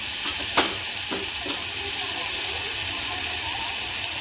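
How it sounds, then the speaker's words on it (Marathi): Masoor dal mixture is stirred in hot oil, a steady sizzle and hiss running throughout, broken by a few sharp spoon scrapes and clicks near the start. "आता सगळं मस्त मिक्स करून घ्यायचं आणि चांगलं तेलावर पर परतायचं"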